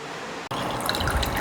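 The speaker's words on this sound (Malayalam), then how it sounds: "മമ്മി വെള്ളം വിളമ്പാൻ നിൽക്കുകയാണ്." Cumin-infused water is poured out for serving, a steady close liquid stream with dripping and splashing after a brief pause, in a home kitchen setting.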